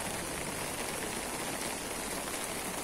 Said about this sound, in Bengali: বৃষ্টি কিন্তু বন্ধ হইতেছে না, বৃষ্টি একটানা চলতেছে